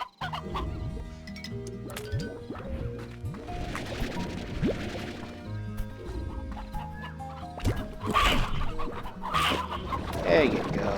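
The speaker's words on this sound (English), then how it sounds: "Chickens in the pen" Hens cluck and gobble in a pen in the Slime Rancher video game, with game fowl calls scattered through a busy, steady mix of game sounds and music.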